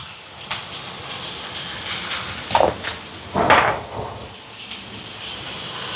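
Ivy gourd with grated coconut and turmeric powder frying in a pan, a steady sizzling hiss with a few louder bursts of spatter and clatter from stirring.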